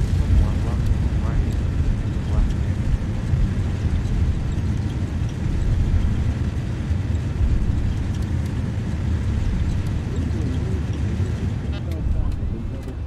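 Airliner rolling out after landing in a flight simulator game, with a steady loud broadband roar of reverse thrust and engine noise throughout, speech heard over it.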